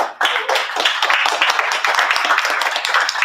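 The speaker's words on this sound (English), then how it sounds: "then we can clap for the performer" Loud, dense clapping from an audience at an open mic night, steady and sustained throughout with no pauses.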